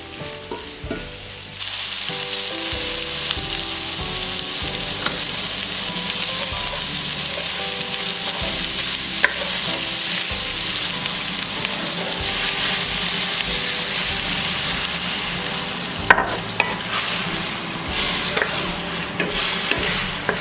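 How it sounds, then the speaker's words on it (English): Sausage, bacon and potatoes sizzle loudly in a very hot cast iron skillet while being stirred, a dense continuous crackle with occasional scraping clatter, close up and without talk. "It's always good to keep stirring this because the cast iron is so hot that if you leave it, it will burn on the bottom."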